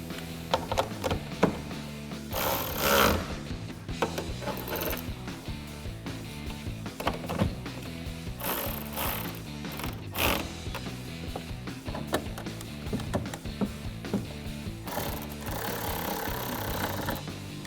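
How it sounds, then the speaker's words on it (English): Tail light nuts on a 2016-2018 Camaro being tightened with an 8mm socket during an LED tail light install, a close, steady ratcheting and mechanical clicking that runs throughout with a few sharper bursts and no speech. "now we can tighten them down with an 8mm socket"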